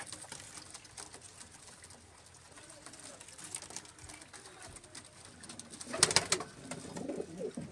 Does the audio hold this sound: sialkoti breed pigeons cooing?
yes